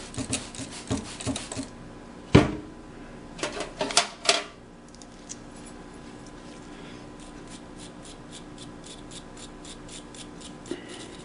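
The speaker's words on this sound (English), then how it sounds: "spray and scrub this worm gear, which has got a lot of blackened varnished oil and grease on it, and scrub that with a little wire brush" A small wire brush scrubs blackened, varnished oil and grease off a sewing machine motor's worm gear, giving quiet, irregular scratchy strokes with a few sharper clicks and taps. Later it settles into faint rhythmic rubbing.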